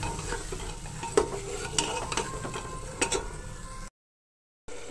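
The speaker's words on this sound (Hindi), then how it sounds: "देखो मसाला हमारा भून रहा है" Masala and peas frying in a pan make a steady close sizzle, punctuated by sharp spoon scrapes and clinks, with no voice and a sudden brief dropout near the end.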